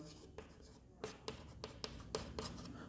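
A pen writes on paper during a probability lesson in a math class, giving a series of short scratchy strokes at a steady rhythm, faint and close, with a teacher speaking over them.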